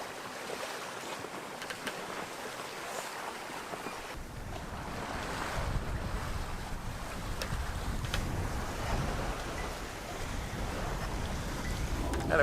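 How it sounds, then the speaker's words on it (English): Wind rushes steadily past a sailboat on a beam reach in about 10 knots of breeze, a constant broad roar with water wash beneath, growing slightly stronger partway through. "And the wind came back."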